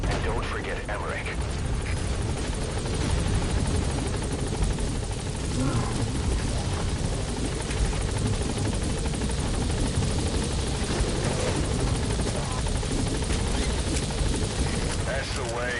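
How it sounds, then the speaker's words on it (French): A video game military helicopter touches down at a landing zone and lifts off again, its rotor roar loud and steady throughout, with voices talking over it and faint gunfire-like crackle in the mix. "All right, the chopper's touching down."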